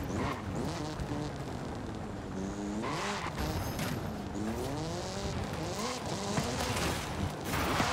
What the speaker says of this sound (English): That turbo sound is so sick.